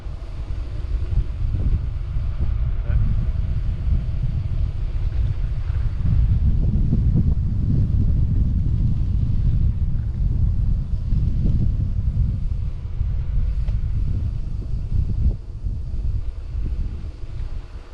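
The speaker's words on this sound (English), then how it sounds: "Very windy again." Strong wind buffets the microphone during a bike ride along a track, a loud, continuous low rumble that swells and eases over the whole stretch without speech.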